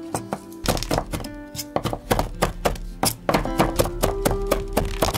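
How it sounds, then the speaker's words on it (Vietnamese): A knife chops rapidly on a cutting board, mincing deseeded bird's eye chili in an irregular run of sharp, close taps with brief pauses, heard alone without talk. "mình lấy hạt ra cho đỡ cay rồi mình băm nhỏ ra"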